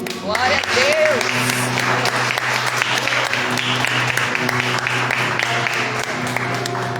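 A church congregation claps loudly and steadily during a worship service, a dense wash of applause with voices cheering and calling out over it throughout.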